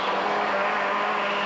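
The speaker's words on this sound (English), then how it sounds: "Henning Solberg and co-driver Runar Pedersen on board the Escort Cosworth, stage is traditionally icy and slippery." Ford Escort Cosworth rally car at speed on an icy, slippery stage at a 2000 Norwegian rally, a loud continuous engine roar heard from on board, with no pauses or talk.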